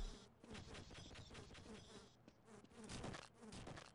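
Bees swarm in Half-Life, buzzing in a dense, continuous drone that swells and dips with faint rhythmic pulses.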